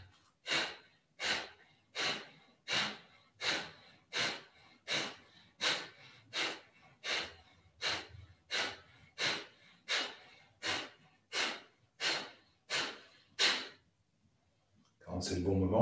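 Slow, deep yoga breathing exercise: about seventeen long, evenly spaced breaths, each a rushing inhale and exhale of roughly the same length, close and clear, then a short pause before a final breath.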